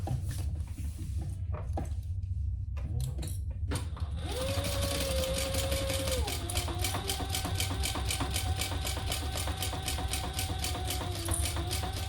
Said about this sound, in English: we're going to sew these on at, let me see, seam line